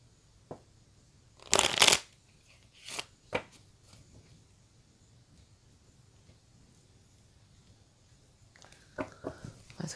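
A deck of divination cards being handled, with a brief burst of quick shuffling riffles followed by a few soft card slaps and rustles, close and quiet, no talking.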